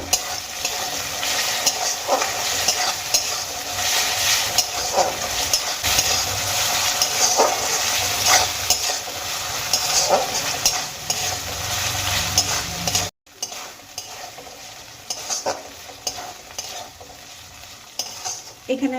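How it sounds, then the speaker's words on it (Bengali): Onion, ginger and garlic paste frying together in hot oil, a steady loud sizzle with spoon-stirring scrapes throughout, a brief cut near the end before the sizzle resumes. "এবার পেঁয়াজ আদা রসুন সমস্ত কিছু একসঙ্গে ভালো করে ভেজে নেব"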